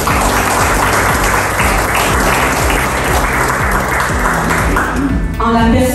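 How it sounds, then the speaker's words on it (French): A large audience applauds loudly at a cultural exhibition event in Montreal for the Dialna Maroc platform. Dense, steady clapping fills the clip with a low tonal hum underneath, and a voice briefly emerges near the end. "que je vous demande d'applaudir très fort"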